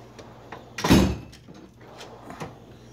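A drawer on a tool chest in a workshop slides open with one louder rumbling scrape, surrounded by a few lighter clicks and knocks from the chest.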